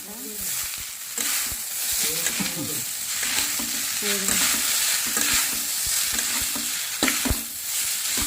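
Veg noodles with sauce stir-fried on high flame, giving a dense, continuous sizzle close up, with repeated clattering stirs and tosses of the utensil against the pan throughout.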